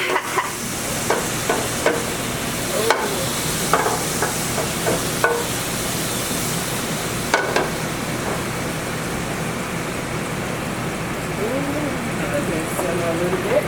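Butter sizzling and frying in a pan as a white wine sauce is started, a steady hiss with occasional clicks and stirring knocks, and voices talking over it.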